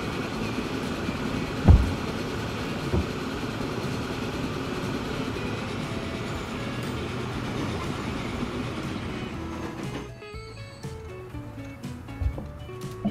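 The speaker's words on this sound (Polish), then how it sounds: "Pociąg za pociągiem." Trains rolling along tracks in the Transport Fever game, with electric trains in play: a continuous rumbling, clattering rail noise with a soft thump near the start. It drops away abruptly near the end, leaving quieter scattered sounds.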